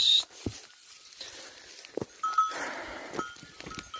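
Sheep on a foggy village farm, a couple of brief bleats and soft shuffling amid quiet outdoor ambience, no voices.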